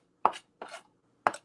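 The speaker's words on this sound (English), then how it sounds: "I'm gonna keep chopping it, and that's creating my garlic rosemary paste" A knife chopping rosemary and garlic into a paste on a board: three crisp, close chops spaced unevenly, with quiet gaps between them and no speech.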